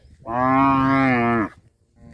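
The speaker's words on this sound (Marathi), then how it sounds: "बैल डरकणार परत" Khillar bull bellowing in a single long, loud, deep moo lasting over a second, close by, followed by quiet.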